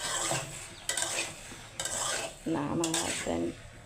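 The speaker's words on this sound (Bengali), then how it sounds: "আর আলু ভাজি করছি।" Fried potatoes (aloo bhaji) are cooked in a home kitchen pan, stirred with a metal utensil. Regular scraping and clinking strokes sit over a soft, steady sizzle.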